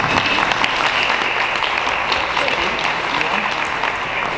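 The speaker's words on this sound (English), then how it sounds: "let's give Evan a hand round of applause" A room audience applauds speaker Evan Brown with steady, even clapping that holds throughout, with some voices mixed in.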